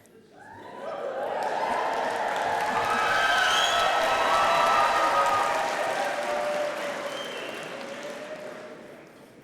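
A large audience at a university graduation ceremony bursts into sustained applause with some cheering that swells, holds steady, then slowly tapers off, filling the hall with dense clapping.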